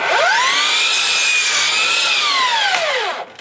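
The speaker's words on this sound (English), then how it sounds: "I'm going to cut all these down to 59 inches long." A board is sawn to 59 inches long, a loud, close, continuous rasping cut that rises and falls in pitch across about three seconds before stopping abruptly.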